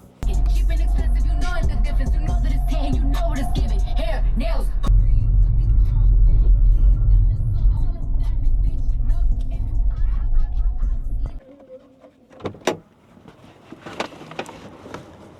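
Steady low rumble of a car driving on the road, heard from inside for about eleven seconds before the engine noise drops away, leaving quieter handling sounds and a sharp click.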